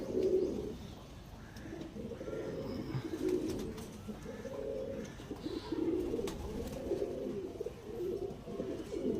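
Pakistani Sakib Teddy pigeons cooing, repeated low throaty rolling coos in a steady rhythm, close and fairly loud, with faint chirps in the background.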